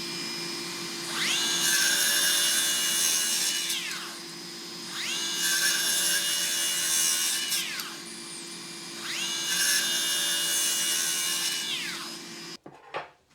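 A Makita KS003G/KS004G 125mm compact circular saw cuts wood in three distinct passes, each a rising whine that holds steady and then winds down, separated by pauses with a faint motor hum; no talking.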